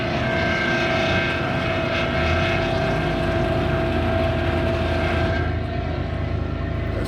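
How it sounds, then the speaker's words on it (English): A large ship backing up to dock with its rear motors running and thrusters in reverse, a loud steady engine drone with tonal hum that fills the whole stretch without letting up. "back motors are on, and they got the thrusters in reverse"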